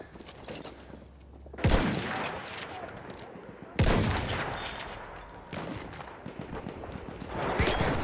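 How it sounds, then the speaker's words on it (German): Battlefield 1 World War I combat with a tank shelling a house: two heavy explosive blasts followed by crumbling debris and scattered gunfire, loud and close. "Oh, da ist ein Panzer. Ja, schießt mein Haus in die Luft."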